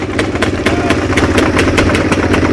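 Three motorcycles idle together near a stage at a motorcycle gathering, a loud close steady rumble with a quick even beat and no voices.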